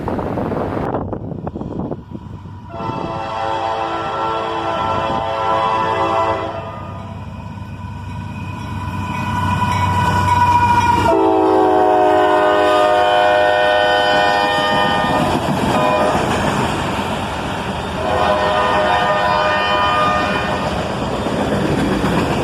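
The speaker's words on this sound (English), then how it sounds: "with a little bit of a fouled horn there" A slightly fouled locomotive horn blares in several long, rough blasts over the rumble of a passing northbound auto-rack train led by old AC44CW locomotives, with wind buffeting the microphone.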